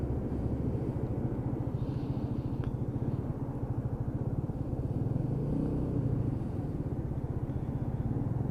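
A Honda Dylan 125cc scooter pulls away on the throttle in traffic, its engine holding a steady, close droning rumble throughout with no talk over it.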